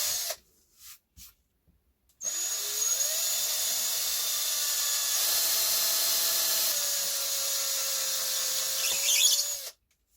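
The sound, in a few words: power drill boring holes in a wooden bench hook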